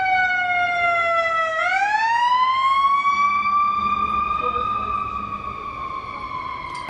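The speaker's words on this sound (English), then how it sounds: "There's a lot of ambulance activity." Ambulance siren passing along a city street, a loud wailing tone sweeping up and down, then gradually fading a little as it moves past, with traffic rumble underneath.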